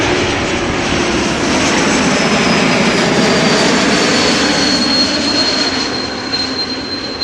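A Boeing 747 "Queen" airliner takes off from runway 24 at Amsterdam Schiphol. Its loud, continuous, dense jet engine roar stays close and steady throughout, with no voices.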